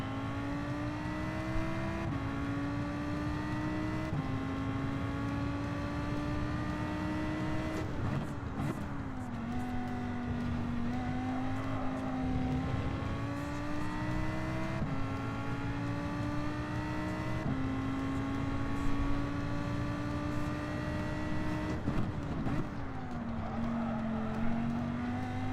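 A race car in Gran Turismo 7 laps Deep Forest Raceway during qualifying, its engine whining steadily and close, pitch climbing through each gear and dropping at shifts, with occasional tire noise.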